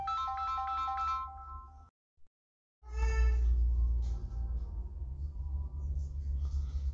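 A mobile phone ringtone plays a bright repeating melody, cuts off into a brief silence, then rings again over a low background rumble and faint voices.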